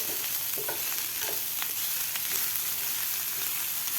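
Cluster bean thecha stir-fries in a pan over a medium gas flame, a close, steady sizzle with soft scraping stirs running throughout.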